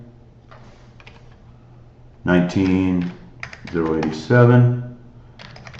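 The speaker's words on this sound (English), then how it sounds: "then you want to actually type in those numbers" Light, quick clicks of numbers being typed on a computer keyboard into an Excel spreadsheet, faint beneath a voice reading figures aloud.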